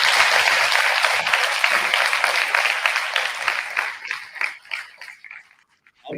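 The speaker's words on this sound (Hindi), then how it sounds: "एक बार जोर से ताली दीजिए" Loud audience applause at a live environment and menstrual hygiene day event, dense clapping that thins out toward the end before a voice returns.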